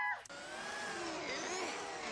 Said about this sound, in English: That's a strong ass vacuum